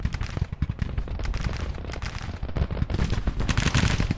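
Whitworth rifles firing in Grand Tactician: The Civil War during fighting in the Ohio River Valley. Dense, loud volleys of musketry crack continuously and overlap into a steady rolling fusillade, with no voices over them.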